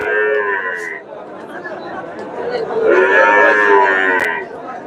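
Two loud, drawn-out cow moos at a livestock market, Friesian cross heifers among the cattle, one at the start and another a few seconds later, over a steady background of crowd murmur.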